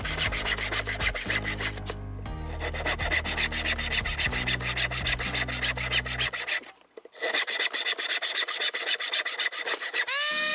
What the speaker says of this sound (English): and then finally finishing the cut with my multi-tool.